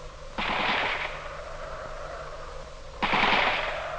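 Two sharp bursts of distant gunfire a few seconds apart, crackling over a steady low rumble.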